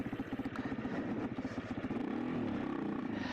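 An AJP PR7 adventure motorcycle engine chugs at low revs with a rough, pulsing rhythm, then rises into a steadier, higher drone as it pulls away off-road, close to the microphone.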